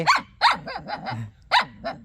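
A dog barks nearby in a rapid volley of sharp, loud barks, some running together with a low growl between them, then two more barks after a short pause.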